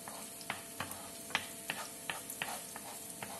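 Onion sizzling and frying steadily in a pan, with scattered crackling pops over a continuous hiss, close and fairly quiet.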